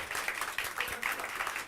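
A church congregation claps loudly together, a dense, steady applause that fills the space throughout, with a voice faintly audible underneath.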